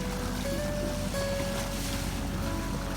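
A sailboat motor-sails on the sea off Maine, its engine droning steadily under the wash of water and waves and a light hiss of wind.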